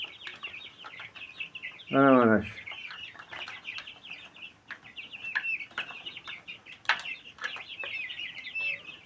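Chickens cluck in short, repeated bursts close by, with one louder, drawn-out call near the start, while a voice speaks briefly over the birds.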